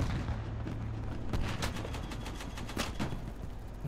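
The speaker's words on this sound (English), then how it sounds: "Did he shoot through that thing? Can tanks shoot through that?" Tank cannon fire in a video game: several dull booming shots spaced a fraction of a second apart over a low rumbling battle background, moderately loud without talk.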